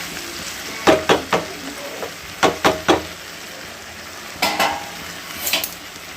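A fish-oil vegetable chochori is gently stirred in a covered-cooking pan without water, giving several distinct scraping strokes of a spatula in short bursts over a soft steady sizzle, close with no talk.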